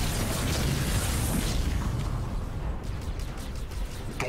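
Dense battle noise from the video game Halo Wars 2, with gunfire striking units amid continuous rumbling booms and bursts, loud and steady throughout without any talk.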